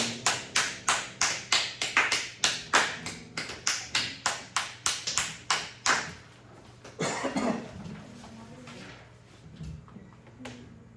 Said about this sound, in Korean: 우리 하나님께 감사의 박수 올려드립니다